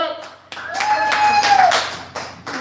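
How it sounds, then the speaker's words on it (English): Applause from an open mic audience breaks out in a short, loud burst of clapping, mixed with a voice and crowd noise in a small venue. "Kara Amore, clap it up."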